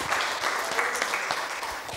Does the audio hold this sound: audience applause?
yes